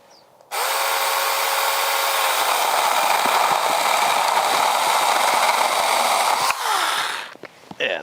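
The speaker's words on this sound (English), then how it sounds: "And now I can come up over the top." A Saker mini chainsaw cuts down through a heavy tree branch from above, its motor whining at a steady, loud, close pitch for several seconds before cutting off and rattling briefly.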